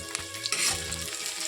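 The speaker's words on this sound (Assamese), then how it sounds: "দুটা পিয়াজ কাটি মই এনেকৈ ৰঙচুৱাকৈ ভাজি লৈছো" Two chopped onions fry in a pan until reddish, producing a continuous close sizzle with occasional scraping as they are stirred, and no one speaking.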